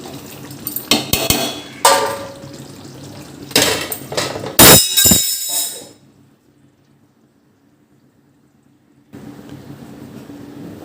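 A spoon stirring rice in a metal cooking pot for chicken gongura biryani, with loud clanks and scrapes against the pot for several seconds, then near silence and a faint low background.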